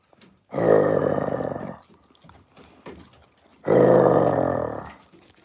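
A dog indoors beside a wood stove gives two long, low growls a few seconds apart, close and fairly loud, with quiet pauses between.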